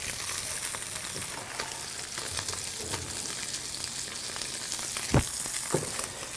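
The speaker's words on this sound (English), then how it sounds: "just cooking that way in the pan, and it's just going to get nice and golden and crisp on the outside" Hapuku fish fillet frying in a pan until golden and crisp, a steady close sizzle and crackle with a couple of brief knocks near the end.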